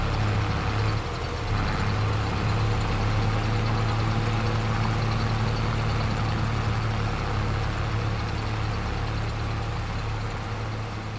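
An old 3115 tractor idles out on a farm with a steady low diesel rumble and a constant drone that barely changes over time, close and loud with no voices.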